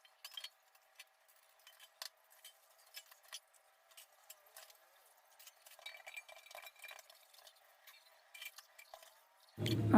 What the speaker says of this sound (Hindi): मैंने बर्तनों को भी धुल लिया, और उसके बाद सिंक को भी धुल देती हूँ